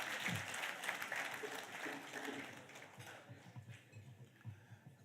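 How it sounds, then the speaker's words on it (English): Audience applause at a taxpayer awards ceremony in Swakopmund, Namibia, clapping loud at first then thinning and fading, with faint voices and murmurs beneath toward the end. "Another round of applause, please,"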